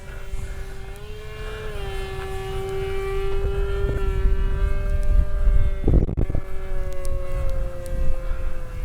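Durafly Rare Bear RC plane fitted with an 8x5 Scimitar propeller flies by, a loud sustained whine with steady harmonic pitch that rises slightly and holds, with a brief rushing burst midway.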